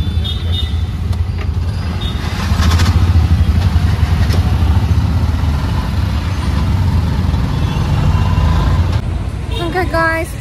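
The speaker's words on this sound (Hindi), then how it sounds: "बेंगलोर का ट्रैफिक" Bangalore street traffic rumbles past up close as motorbikes, cars and heavier vehicles churn along a busy road, with engine drones, occasional horns and people talking nearby.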